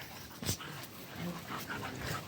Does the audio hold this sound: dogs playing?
yes